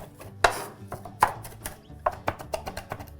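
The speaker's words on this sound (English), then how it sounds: "After you chop for a while" Mint and garlic being chopped with a knife on a board, irregular sharp thuds, a few hard strikes then quicker lighter taps, close and clear without speech.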